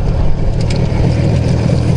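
An IZh Jupiter motorcycle engine runs steadily and close by, a continuous low mechanical drone with no speech over it.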